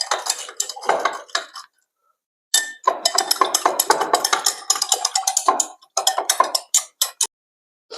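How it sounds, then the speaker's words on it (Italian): Caustic soda solution stirred in a container, a utensil clinking and scraping against the sides in quick, busy bursts, stopping for about a second before resuming. No voices. "Andiamo a mescolare la soda normale."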